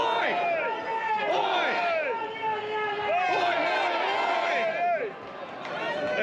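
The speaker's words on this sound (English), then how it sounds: "One of the crowd favourite chants today is elbows a wanker and elbows a traitor." Crowd chanting at a March for Australia rally, many voices shouting slogans in rising and falling waves, loud and close, with overlapping yells.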